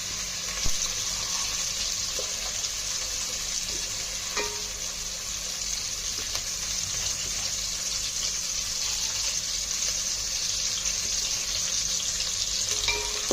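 Whole spices frying in oil in a pot for mutton biryani, a constant even sizzle with a few light spoon taps, heard alone without talk.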